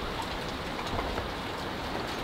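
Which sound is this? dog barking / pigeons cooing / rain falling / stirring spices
rain falling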